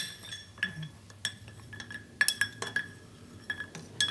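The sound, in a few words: gentle stirring of a coffee amaro cocktail in a glass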